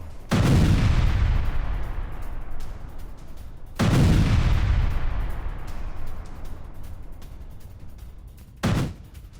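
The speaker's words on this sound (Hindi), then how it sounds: "रूसी आर्टिलरी ने विध्वंसक हमला किया है।" Russian artillery fire booms loudly in an attack, two heavy blasts each followed by long rumbling decay, then a third sharp report near the end.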